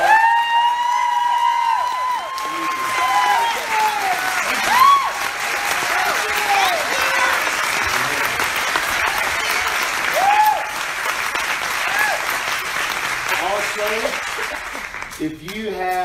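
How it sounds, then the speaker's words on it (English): Sustained crowd applause in a hall honours military veterans standing in the audience, a broad, continuous wash of clapping lasting over fifteen seconds with a few voices and murmurs rising above it. "give you a round of applause"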